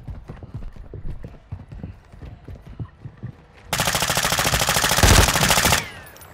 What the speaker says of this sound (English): I just followed his footsteps up there